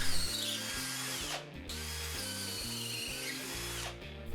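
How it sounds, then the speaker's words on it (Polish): Power drill boring holes in brick with an 8 mm bit, hammer mode off, during bathroom plumbing work for a concealed shower mixer; steady loud whirring with pitch shifts, briefly easing off twice. "wywiercam otwory wiertłem ósemką bez udaru w cegle, żeby za dużo nie rozwiercić"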